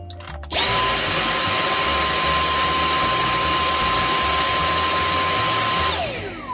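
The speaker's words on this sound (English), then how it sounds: "we'll see how much these headphones reduce the sound of this hand vac here" A handheld vacuum switches on and runs as a loud, steady whine with a high tonal hum over broadband airflow noise. It holds a constant pitch for about five seconds, then spins down.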